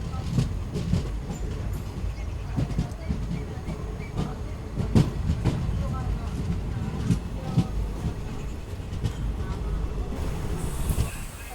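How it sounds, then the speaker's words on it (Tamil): A passenger train rolls into Kaveri railway station on the Salem–Erode line, a continuous rumble of wheels and carriages with rattling clicks and wind noise throughout. "நம்மளோட ட்ரெயின் இப்போ பார்த்தீங்கன்னா காவேரி ரயில்வே ஸ்டேஷன் வந்திருக்குங்க"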